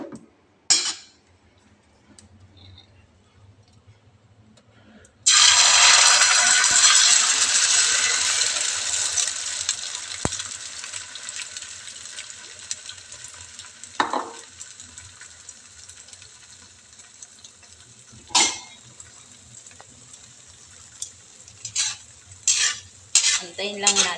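Sardines and egg drop into hot oil in a pan, setting off a loud, bright sizzle that slowly fades to a steady frying hiss, with a few utensil clinks and scrapes later on.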